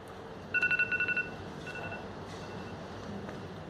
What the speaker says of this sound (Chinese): 谁的手机啊？